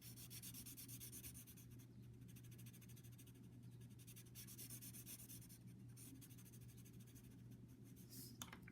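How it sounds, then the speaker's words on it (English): The side of a pencil shades on paper in soft, continuous rubbing strokes, very faint and close, with no talking. "use the side of your pencil and add darkness just to this triangle"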